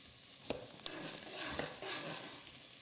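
Chopped chunks drop one after another into a hot pan, each landing with a soft thud over continuous close sizzling.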